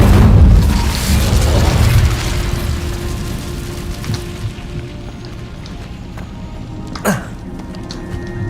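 The Incendio fire spell goes off in Hogwarts Legacy, a loud booming whoosh of flame at the start that fades into a lingering rumble, followed by a short sharp burst later.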